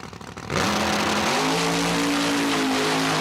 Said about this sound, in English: Last car in the class in the right lane, Roots Blown Corvette.